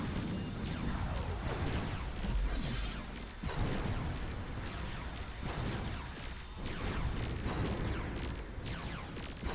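Sustained heavy gunfire and blasts in the space strategy game Nexus: The Jupiter Incident, a dense, loud barrage of repeated bursts and booms continuing throughout without pause.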